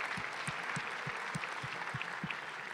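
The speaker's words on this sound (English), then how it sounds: "A big round of applause for tonight's sponsors." Fairly faint, even applause from a concert audience thanking the sponsors, with soft low thumps recurring at a regular pace underneath.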